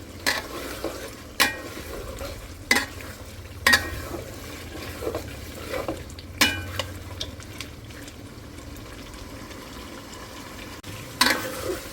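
Meat stir-frying in a pot in a home kitchen, with a steady sizzle and repeated scraping, clanking stirs at irregular intervals, close and moderately loud with no talk.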